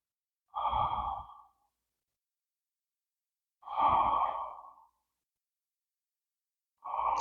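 Three slow, deep breaths during seated chair yoga, each a soft sigh-like exhale of about a second, separated by long silent pauses, close and alone.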